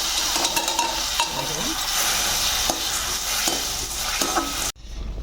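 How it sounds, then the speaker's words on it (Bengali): Jaggery syrup being stirred continuously in a frying pan while making gur katkati, a steady close scraping and bubbling sizzle that runs unbroken until it cuts off sharply near the end. "এবারে আমি ঢেলে দেব নেড়ে যেতে হবে অনবরত নেড়ে যেতে হবে"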